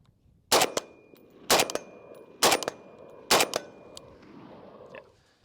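Four loud, sharp rifle gunshots spaced about a second apart from a rifle with a 31-round magazine, each followed by a sustained metallic ringing like a tuning fork that lingers between shots and fades after the last.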